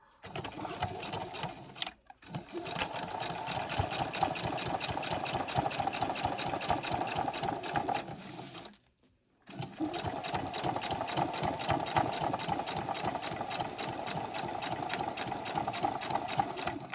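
A sewing machine stitches backpack straps with white thread in long, steady, close runs, with a rapid even needle rhythm broken by two brief pauses.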